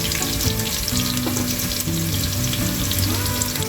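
Onions frying in a pan for a Madras-style chicken biryani sizzle loudly and continuously up close, with a dense crackling hiss throughout and no voices.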